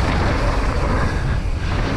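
Wind buffets the microphone at a bike park, a loud, continuous broadband rumble and rush that holds steady for the whole stretch, with no voices.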